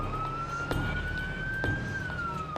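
An ambulance siren wails steadily in one long rising and falling tone, loud and close over a low rumble of road traffic, with no talking.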